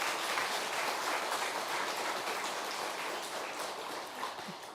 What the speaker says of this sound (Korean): 최범술 큰 대화상께 박수를 한번 보내주시기 바랍니다